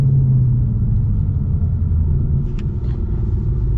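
Deep, loud engine rumble from an 800-horsepower manual 2025 Ford Mustang RTR on downshifts, a steady low throbbing drone heard from inside the car with no talking.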